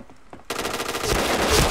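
Dual pistols firing in a video game: rapid, dense gunfire bursts start abruptly half a second in and continue loudly to the end, with faint voices briefly before.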